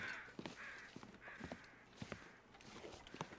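Crows caw in The Long Dark survival game: faint, distant, repeated harsh calls spaced through a few seconds, with soft crunching footsteps in between.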